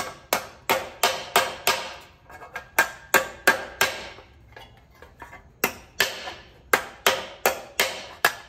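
Metal tabs on a scrap 20-inch bicycle wheel are hammered straight with sharp, ringing, close-up strikes in quick irregular bursts of two to four blows, with brief pauses between groups.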